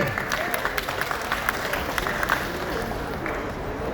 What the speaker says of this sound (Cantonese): 大家掌聲